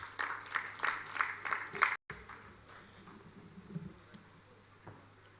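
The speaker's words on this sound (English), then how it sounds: "A round of applause for him as he comes on stage" Scattered applause at a housing show session greets a speaker coming on stage, a few quick bursts of clapping in the first two seconds that drop away to quiet room noise.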